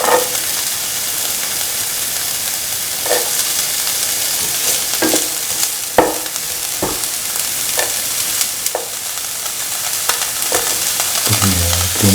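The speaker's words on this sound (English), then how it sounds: "Put in the onion pieces." Onion pieces fry in a pan, a loud, constant sizzling hiss with repeated sharp scrapes and clicks as they are stirred.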